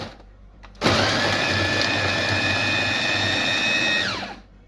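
A Sonai kibbeh machine chops onion in a loud, steady whirring grind that starts abruptly after a brief quiet moment, runs evenly for about three seconds with a motor whine, then winds down.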